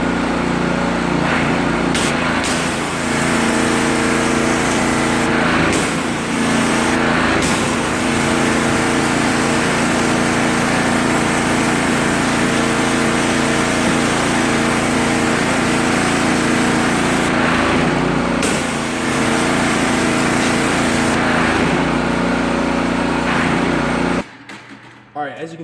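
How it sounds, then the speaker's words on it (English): Water spray rinses the engine bay of a Porsche Cayman, a continuous loud hiss over a droning machine hum that holds steady for most of the time before cutting off abruptly near the end. "let's go ahead and rinse off the engine bay"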